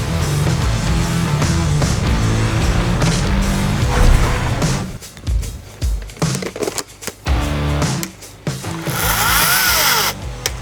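A Greenworks chainsaw runs loud and close during a durability test, a dense roaring drone that cuts out and restarts in bursts amid clattering knocks.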